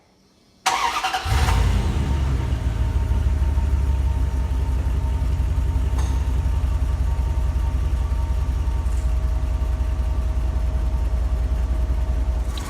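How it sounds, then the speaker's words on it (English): A 2000 Dodge Ram truck engine cranks and catches, then settles into a steady, loud idle with a deep rumble that continues to the end. "let's get this thing started and we'll check it."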